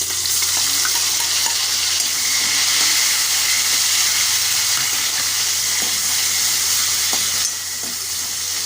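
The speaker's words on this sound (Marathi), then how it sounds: "टॅमॅटो थोडा नरम होईपर्यंत बा परतून घ्यायचं आहे" Tomatoes and bay leaf sauté in hot oil with garlic in a pan, a loud continuous sizzle with occasional stirring scrapes close by, no voices.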